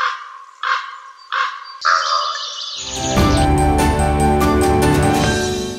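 A few harsh crow caws in separate bursts, then a sudden wall of loud music that drowns everything out.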